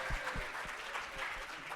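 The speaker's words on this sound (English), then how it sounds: "If you would please join me in a very warm round of applause for everyone who spoke." An audience at a small-group report session claps in a warm round of applause, a steady mass of many hands, moderately loud and continuous for the short stretch.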